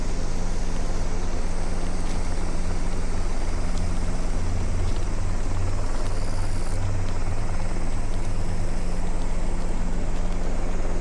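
A helicopter passing overhead on an afternoon walk, its loud, steady rotor thrum and engine drone filling the air continuously from start to finish.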